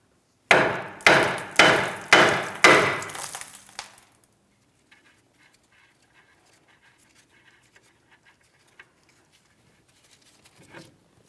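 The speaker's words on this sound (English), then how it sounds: "We're tapping directly on the knuckle here." Hammer tapping on the front steering knuckle of a 2007-2014 Ford Edge, five sharp ringing metal strikes in a steady rhythm, close and loud, followed by faint rattles and quiet shop noise.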